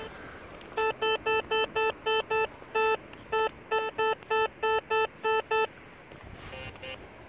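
White's MX Sport metal detector giving repeated electronic beep tones over a 1980 coin, a quick series of short bright pulses in bursts, with faint background hiss between them.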